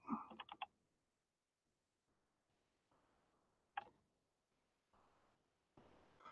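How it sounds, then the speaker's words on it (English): Sparse, quiet clicks of keys typed on a computer keyboard, with a quick burst of taps at the start and a few isolated keystrokes afterwards against a near-silent room. "I'm typing."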